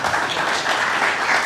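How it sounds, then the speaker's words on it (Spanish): Steady applause from an audience at a numismatics talk, a brief, dense wash of clapping held at an even level with no voices over it. "Un aplauso para él."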